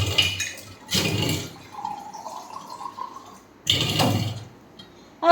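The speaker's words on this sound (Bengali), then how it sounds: "একটু জল খেয়ে নি, একটু জল খেয়ে নি" Water is poured from a bottle and then drunk, heard as a few separate close splashy bursts of liquid with a faint gurgling trickle between them, and no voices.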